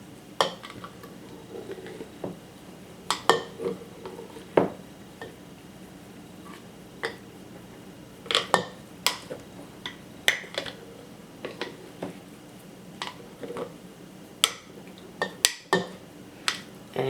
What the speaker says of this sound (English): And just mix it about a minute to get all the flour